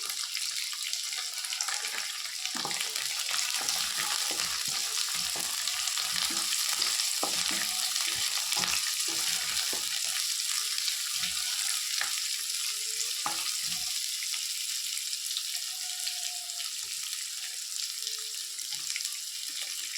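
Chopped onion sizzles steadily in a hot pan, a continuous frying hiss with frequent scraping stirs and clinks throughout, close up and with no talk.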